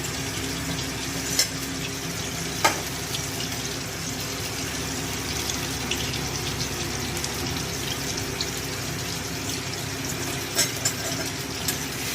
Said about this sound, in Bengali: এরকম মাছটা ভাজছি।